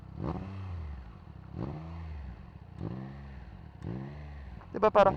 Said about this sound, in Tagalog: So if you check the RPM habang tinathrottle ko to